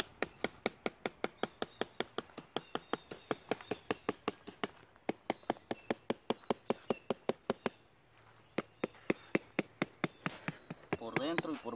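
Rapid, steady pounding as filler is packed into a round garden planter with an improvised tool, dozens of sharp thuds in quick rhythm, close and fairly loud, with a brief pause near the end before the blows resume.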